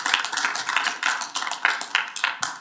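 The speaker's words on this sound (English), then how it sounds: "I just want to give them a great round of applause" Applause at a city council regular meeting, a crowd clapping in an irregular rapid patter that swells and fades over a few seconds.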